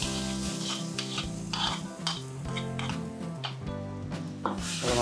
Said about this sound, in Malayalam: അത് നന്നായിട്ടൊന്ന് ഇളക്കി കൊടുക്കാം.